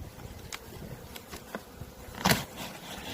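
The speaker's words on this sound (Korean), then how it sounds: "지금 벌이 많이 몰렸습니다." Honeybees crowd a strong hive in a southern spring apiary, with a soft, steady buzzing and several individual bees droning past close by in brief swells.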